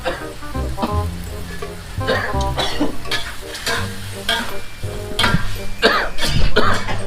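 Spicy duck neck tossed with curry paste in a wok, loud close sizzling under rapid scraping and clanking stir strokes, with a cough and a brief voice breaking in.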